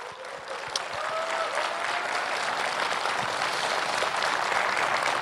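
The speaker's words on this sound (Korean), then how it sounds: "이럴 때 박수 한번 쳐주시면 안 되겠습니까?" Sustained crowd applause fills a political campaign speech event held 100 days before a South Korean presidential election, with steady dense clapping that swells after a brief start and continues loud and unbroken throughout.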